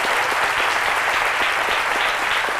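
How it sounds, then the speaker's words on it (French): A studio audience on a French-language midday TV talk show applauds steadily, a dense, even wash of clapping that holds throughout without talk. "Ça s'applaudit."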